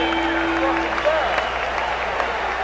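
The big boxing crowd at the Spectrum for Marvin Hagler vs Bennie Briscoe in 1978 applauds at the end of round 2, a dense roar of clapping with crowd noise and a voice talking over it.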